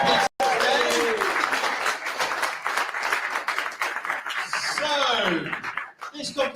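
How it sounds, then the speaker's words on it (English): A crowd applauding competitors at a cocktail-making grand final, dense clapping with scattered cheers and whoops, voices and laughter mixed in, fading toward the end. "So all massive round of applause for all the guys who are going to be competing today."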